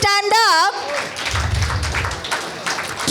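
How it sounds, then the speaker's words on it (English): A voice speaks briefly, then a seated audience at a stage event breaks into sustained clapping and applause, a dense patter of many hands that holds steady to the end. "I would request all of you to give a big round of applause"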